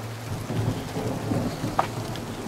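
A low, continuous thunder rumble rolls above a garage during a windless storm, steady and moderately loud with rain noise underneath and a brief sharp crack near the end.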